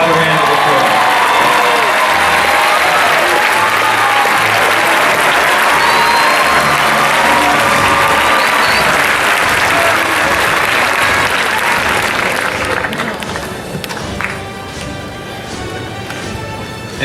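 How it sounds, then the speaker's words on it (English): A graduation crowd applauds its teachers and guidance counselors with loud, dense, sustained clapping and some cheering, before the noise thins out toward the end. "How about a round of applause?"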